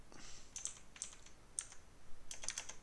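A computer keyboard is typed on in short clustered bursts of crisp, close key clicks, quiet and alone, as a math expression is entered in a programming exercise.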